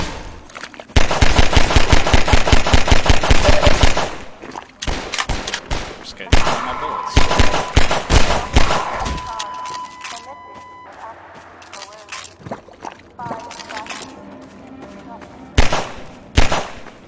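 Gunfire in Half-Life 2: a loud, rapid burst of automatic fire for several seconds, followed by scattered single shots, impacts and clatter with brief electronic tones, some talk mixed in.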